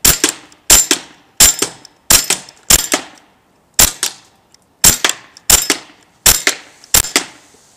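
A T4E TM4 real action marker fires ten sharp, loud cracks at close range, in uneven bursts with short gaps between them. No one speaks.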